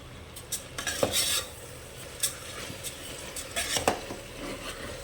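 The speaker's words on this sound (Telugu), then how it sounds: "ఇప్పుడు మనం మళ్ళీ కలుపుకుందాం ఫ్రెండ్స్." Masala khichdi rice stirred in a pan with a utensil, giving irregular scraping and clinking strokes with a faint sizzle underneath, close and moderately loud, no talking.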